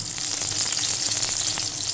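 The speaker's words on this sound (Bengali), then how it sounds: "জানো তো একটু বেশি তেল দিয়েই না আমি কিন্তু ভাজাগুলো ভাজছি" Seven kinds of fritters frying in a generous amount of oil in a home kitchen, a steady close bubbling sizzle with faint crackles, continuous and alone without talk.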